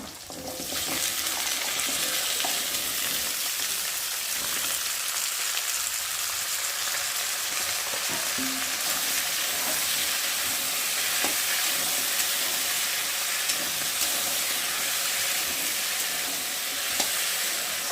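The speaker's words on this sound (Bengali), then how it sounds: "আর এখন কেটে রাখা সবজিগুলো দিয়ে ভালো করে ভেজে নেব।" Chopped vegetables fry in oil in a kadai, with a dense, even sizzle sustained close-up for the whole stretch, broken only by a few faint stirring knocks. Nobody speaks.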